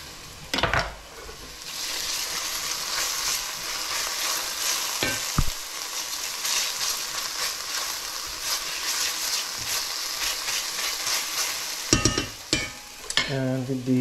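Garlic sizzles in hot oil in a frying pan with a steady, close crackle throughout, broken by occasional clatters of a utensil stirring or scraping the pan, and no one talks.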